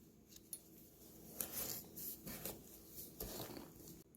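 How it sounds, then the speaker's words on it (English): Knife slicing through a pumpkin, soft irregular cutting strokes and crunchy scrapes at close range, faint and muffled, with a few sharper chops among them and no talking. "Now we're going to slice up the pumpkin."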